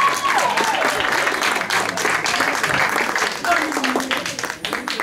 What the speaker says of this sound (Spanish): Un fuerte aplauso para el padrino